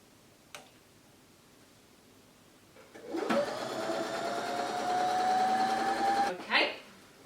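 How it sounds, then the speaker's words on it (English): Running steadily for about three seconds, a sewing machine stitches down a zipper with a fast even whir and ticking needle, starting after a quiet pause with a click before it and a clunk at the end. "if you turn your sewing machine on,"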